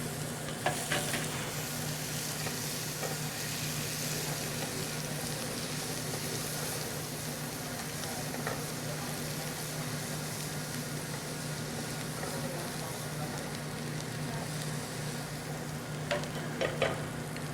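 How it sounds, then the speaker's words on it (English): Shallots sizzle and fry in browned butter in a pan, a steady, even crackling hiss heard close up for the whole stretch with a few brief stirring scrapes and no talking. "now that the butter's brown, I'm gonna add some shallots. And I'm gonna let those get a little fragrant."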